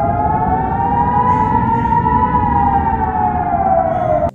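An air raid siren wails loudly and steadily, its rising and falling tone slowly swelling and easing before cutting off abruptly at the end, heard alone with no talk.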